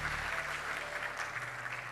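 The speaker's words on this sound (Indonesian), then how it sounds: "Berikan tepuk tangan untuk Tuhan Yesus." A church congregation at a Christmas service claps for Jesus, a dense, continuous wash of applause from a large crowd that holds evenly throughout.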